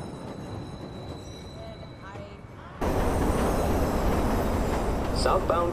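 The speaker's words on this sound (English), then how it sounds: "Southbound train, arriving shortly." A subway train pulls into a station in the video game Watch Dogs, a quiet rumbling ambience that jumps abruptly into a louder, sustained rolling rail roar for the second half, with faint squeal-like tones.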